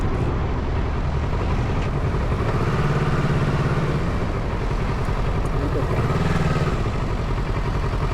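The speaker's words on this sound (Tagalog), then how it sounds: "Ang dala po nating motor ngayon ay Versys 650 2023 model." A 2023 Kawasaki Versys 650 motorcycle engine runs steadily at a low rumbling idle, loud and close, with a faint rattle over the continuous drone.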